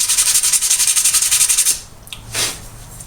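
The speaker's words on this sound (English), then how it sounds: "A little sandpaper, get off any burrs that you may have on there." The edge of a metal spoon rubbed with sandpaper, a fast, even rhythm of rasping strokes for almost two seconds, then a pause and a couple of slower, softer scrapes up close.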